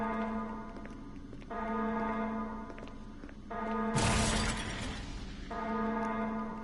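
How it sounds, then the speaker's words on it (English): Banging on glass in the video game Resident Evil Remastered lands as one loud, noisy impact partway through, set against a pulsing, droning alarm-like tone, with no talk. "Stop banging on the glass."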